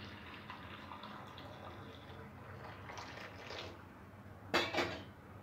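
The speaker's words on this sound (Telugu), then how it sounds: "వేడి నీళ్ళు వేసుకోవాలి" Hot water poured into a bowl while making cauliflower avakaya pickle: a steady, moderately loud rush of water, followed near the end by two sharp clanks of a vessel.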